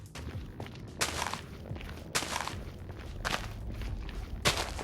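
Footsteps sound in Minecraft while crossing block gaps, a regular series of crunchy steps with a brighter scuffing burst about once a second, fairly faint and with no talk.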